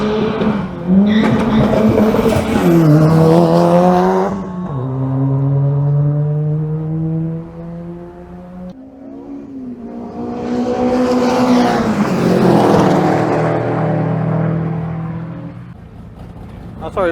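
A powerful turbocharged car engine revs hard at a motor circuit, rising and falling in pitch with a strong whooshing turbo character, sustained and loud, with voices talking over parts of it.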